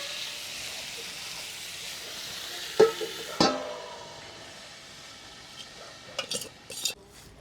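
Chicken with yogurt and spices cooks in a pan for village-style chicken korma, giving a faint, steady hiss with a few sharp metallic clinks and scrapes of a spoon against the pan.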